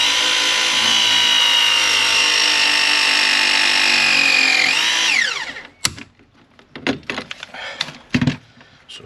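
A battery press tool runs its jaws onto an underfloor heating manifold fitting, giving a steady loud whine for about five seconds that winds down, followed by scattered clicks and knocks of handling.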